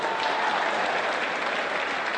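A crowd applauds at an outdoor public gathering, a dense, even wash of clapping throughout with no pauses.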